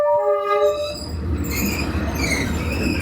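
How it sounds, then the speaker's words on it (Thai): A train rolls past at very close range through a narrow Hanoi street lined with cafés, opening with a sustained horn blast before giving way to a loud, steady rumble of wheels and cars on the rails. "เวลารถไฟวิ่งเราก็ได้เห็นบรรยากาศแบบใกล้ชิดมากๆ"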